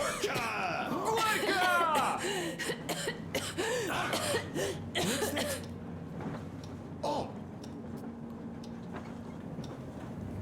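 Coughing from characters in the Metro Exodus video game, set during a feast by the Caspian Sea, comes in repeated bursts over busy game audio and speech during the first half, then fades to quieter ambience.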